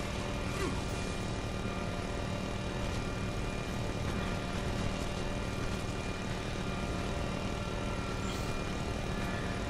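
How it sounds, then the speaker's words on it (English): A gun turret fires continuously in the Shadow Warrior video game, making a steady, loud mechanical drone like nearby construction machinery that holds without a break throughout. "if you hear like some guy doing construction outside of my window right now, that's actually the turret."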